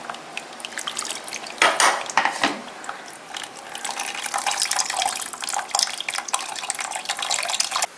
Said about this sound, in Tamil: சும்மா ஒரு அரை கப்பு இந்த மிக்சியிலேருந்து கழுவி ஊற்றிக்கலாம்.